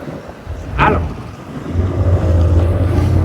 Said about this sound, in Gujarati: યામાહાનું એન્જિન છે અને હા યામાહા કંપનીનું એન્જિન છે